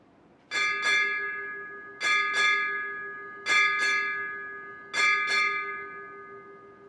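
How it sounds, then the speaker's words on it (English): A ship's bell rings eight bells at the inactivation ceremony of the submarine USS Bremerton (SSN 698), in four spaced pairs of clear strikes, each pair decaying with a bright lingering tone. "Ring 8 bells."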